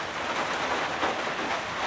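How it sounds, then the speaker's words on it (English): Heavy rain drumming on a rustic old hut, a dense, steady patter of countless drops on the roof and surroundings, loud and close, continuous without pause and with no voices. "and listen to the rain"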